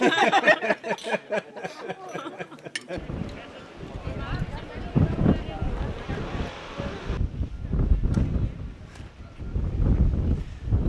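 Heavy wind buffets the microphone as a runner heads into a strong headwind on Lanzarote, a loud, gusting roar with rhythmic footfalls early on and people speaking intermittently over it.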